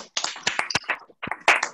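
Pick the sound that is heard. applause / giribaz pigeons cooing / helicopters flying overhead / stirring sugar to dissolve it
applause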